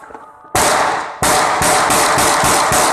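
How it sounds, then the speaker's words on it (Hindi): Celebratory gunfire rings out in loud, sharp cracks: one blast, then a rapid regular string of shots that continues to the end, close and dominant. "आपकी ख़तरनाक फायरिंग की आवाज़ से कितने लोगों के दिल दहल जाते हैं"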